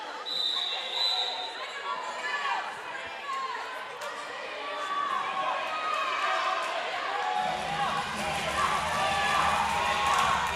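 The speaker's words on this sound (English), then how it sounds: "And the crowd is just absolutely thrilled here." A roller derby crowd at an Amsterdam versus Namur bout cheers and chatters, a continuous rising roar of voices with skates rumbling and announcer talk over it, growing louder toward the end.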